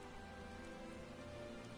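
Rain pattering steadily on surfaces in Final Fantasy XIV: Shadowbringers, a low, continuous hiss of drops under faint ambient music, with no talking.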